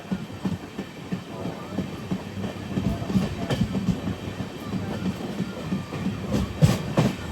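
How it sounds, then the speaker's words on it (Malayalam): The Vanchinad Express passes near Kayamkulam with a steady rumble and rhythmic clickety-clack of wheels over rail joints, growing louder toward the end. "ഇത് വഞ്ചിനാട് അങ്ങനെ വരുന്നുണ്ട് കേട്ടോ"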